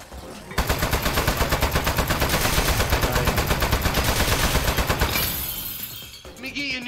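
Rapid, loud machine gun fire from toilet-mounted turrets in the video game Aperture Desk Job pours out in one continuous burst for about five seconds, then cuts off, with a voice briefly heard afterward.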